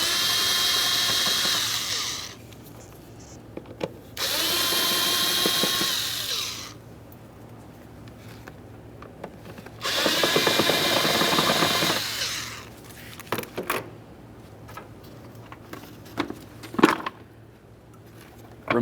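A power driver whirs in three sustained bursts of a few seconds each, loosening Phillips head screws on the air cleaner cover of a 1999-2006 Chevrolet Silverado 1500 4.3L V6, close by, followed by scattered handling clicks and knocks.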